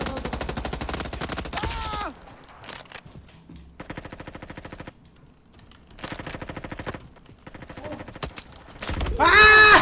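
Rapid bursts of automatic gunfire in the Roblox game Frontlines, several rattling volleys separated by short pauses and ending in a louder burst with a tonal effect.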